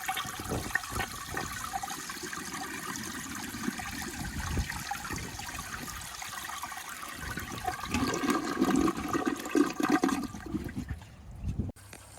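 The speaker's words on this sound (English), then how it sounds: "I'll show you a clip right now of how the toilet originally used to flush" A 1978 Eljer Emblem toilet flushing, a long rushing gurgle of water lasting several seconds, swelling louder near the end before cutting off into trickling refill.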